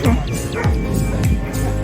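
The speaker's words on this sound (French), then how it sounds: "Ah, ils sont beaux les toutous." Several dogs bark and yip in quick succession nearby, loud and overlapping, with some whimpering mixed in.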